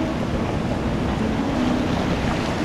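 Winter sea surf on a beach while shore fishing for bass, a steady broadband wash of waves close by with wind noise, continuous and fairly loud, no talking.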